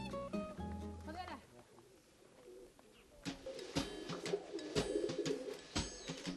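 Pigeons cooing in Siwa Oasis, Egypt: soft repeated throaty coos and flutters, fairly close, with a voice speaking early on.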